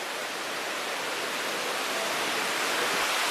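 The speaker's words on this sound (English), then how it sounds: "This is the water that's coming out of the mine." Steady rushing water flowing out of an old mine adit, a continuous broadband hiss and splash, close and even throughout with no voices.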